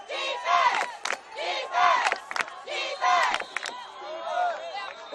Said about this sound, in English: So the Marin Catholic crowd comes back to life and having a little effect on this one.